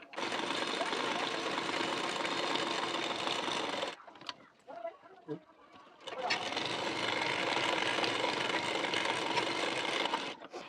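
A sewing machine stitches a 40-size bra-cut blouse in two loud, steady whirring runs, close by, separated by a short pause with faint handling noises.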